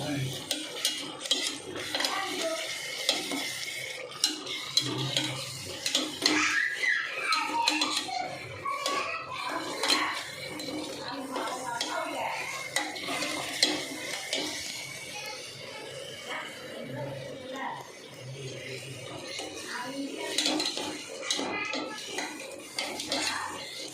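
A kuska rice mixture being stirred in a pot at home, with repeated close clinks and scrapes of a metal spoon against the vessel under frequent conversation, including a voice.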